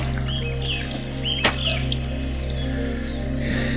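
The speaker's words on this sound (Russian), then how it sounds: "Журчит ручей." A stream babbles underfoot in the narrow Shiratani forest gorge on Yakushima island, a steady low wash of flowing water filling the whole stretch, with a faint bird call above it and a single brief knock partway through.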